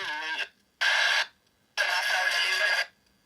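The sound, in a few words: radio ghost box sweep without reverb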